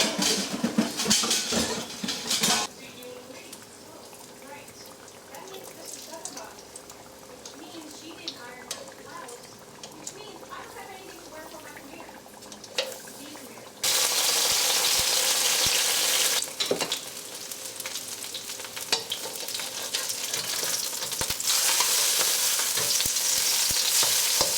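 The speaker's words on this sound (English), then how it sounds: "now it is time to batter and fry the zucchini" Battered zucchini frying in a pan of hot oil for a vegan Korean recipe, a steady close sizzle that swells sharply louder partway through as more pieces go in, with occasional stirring and clatter.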